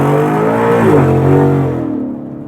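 A Ford Mustang engine revs hard nearby, a loud, rising roar that swells and then drops away as the pitch falls, with no speech over it.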